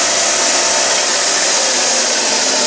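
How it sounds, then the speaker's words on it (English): A small belt sander squares up and deburrs the ends of cut metal stock for a model steam engine, giving a steady, loud, broadband grinding whir that runs unbroken throughout with no speech. "And then I immediately take it to my little belt sander."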